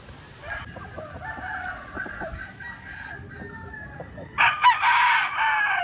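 A nine-month-old asil breeding rooster crows loudly nearby, a long strained call, with hens clucking and farmyard chatter in the background.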